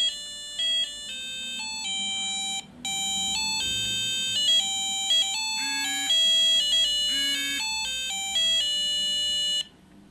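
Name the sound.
ringtone of Squale SV-3000 car alarm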